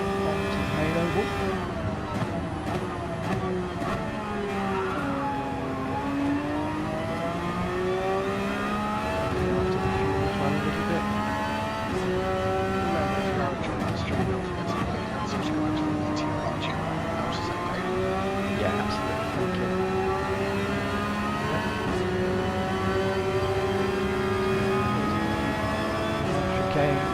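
A BMW M6 race car engine in Gran Turismo 7 at Daytona drones and revs steadily, rising and falling through gear changes for the whole stretch, with a commentator talking over it and other cars' engines mixed in.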